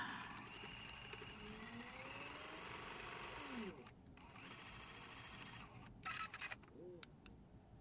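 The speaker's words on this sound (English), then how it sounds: "stuffing it underneath of the foot of our sewing machine" A domestic sewing machine runs a seam on a charm-pack cube pin cushion, a fast steady whir of stitching that stops partway, followed by a few short bursts and small handling clicks.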